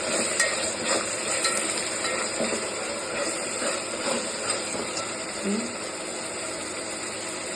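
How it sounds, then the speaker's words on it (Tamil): Onions and ginger garlic paste sautéing in a pan for vegetable biryani give a steady, close sizzling hiss that runs the whole time, with faint scraping and stirring sounds throughout. "இஞ்சி பூண்டு பேஸ்ட் போட்டு நல்லா வதக்கலாம்."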